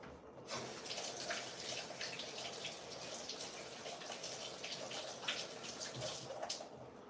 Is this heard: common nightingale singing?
no